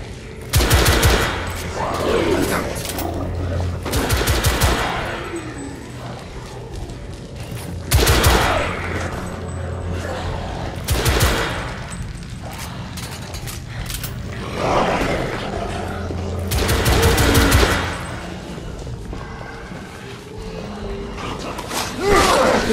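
Gunfire in the video game The Order: 1886, with loud bursts of rapid automatic fire repeating every few seconds over a low rumbling game background.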